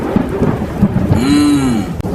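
Rain with rolling thunder during a downpour outdoors under a tree, a steady wash of rain with a low rumble swelling and fading, fairly loud, no talk.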